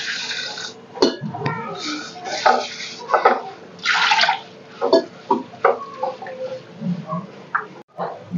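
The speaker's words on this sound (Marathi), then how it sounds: "आता आपल्याला ही धुवून घ्यायची" Urad dal being washed in water, with intermittent sloshing, splashing and swirling sounds at close range in uneven bursts, no voices.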